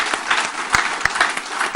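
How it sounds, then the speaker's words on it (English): A crowd applauds steadily at the launch of ZF's India Technology Center in Hyderabad, with dense clapping that continues throughout at a fairly loud level. "a big round of applause to ZF and their entire team."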